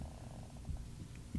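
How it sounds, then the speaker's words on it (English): A cat purrs close up in a low, steady rumbling flutter, soft and continuous for a moment with no talk over it. "It's my cat."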